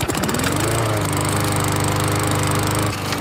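A lawn mower engine runs loud and close, a steady droning hum with a rising whine at the start and a sudden cut near the end, with no voices.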